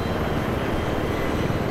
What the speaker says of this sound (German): So, wir heben mal ab hier mit dem Heli.